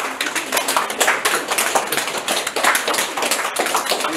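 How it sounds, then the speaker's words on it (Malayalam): Doctors and nurses at a hospital applaud a recovered patient as he leaves, a sustained round of many hands clapping with no gaps, fairly close and lively. "ഡോക്ടർമാരും നഴ്സുമാരും നിറ കയ്യടികളോടെയാണ് നസീറിനെ ആശുപത്രിയിൽ നിന്നും യാത്രയാക്കിയത്"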